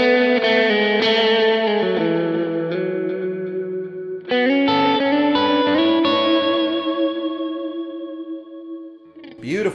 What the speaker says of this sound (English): Got a little lead. I can throw on tube screamer.